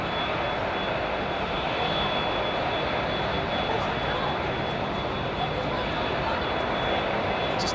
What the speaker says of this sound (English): 320 taxiing.